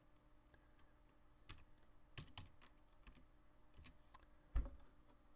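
Sparse keystrokes on a computer keyboard, a few separate taps and clicks spaced across several seconds with one sharper knock near the end, quiet and close with no talking.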